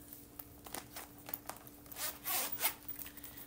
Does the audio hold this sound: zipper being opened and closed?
yes